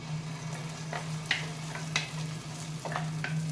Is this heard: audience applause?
no